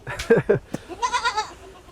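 Goats at a goat farm in Natore bleat close by: two short cries, then a longer wavering bleat, with people talking nearby.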